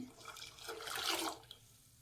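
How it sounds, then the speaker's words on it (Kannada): Water poured into a cooking pot holding tomatoes and garlic, a brief splashing gush that swells for about a second and then fades, fairly faint and close. "ನೋಡಿ, ನಾನು ಎಷ್ಟು ಬೇಕಷ್ಟು ನೀರು ಹಾಕ್ಕೊತೀನಿ."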